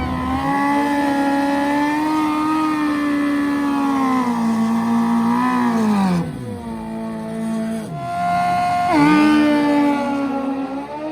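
Suzuki Hayabusa and GSXR 1000 sport motorcycles accelerating hard, loud and close, with rising engine pitch through several gear changes and brief dips between shifts, no talk.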